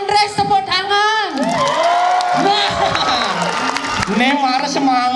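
Loud cheering and whooping from a crowd watching a Balinese bondres comedy drama, sustained raised voices mixing with some clapping and general crowd din.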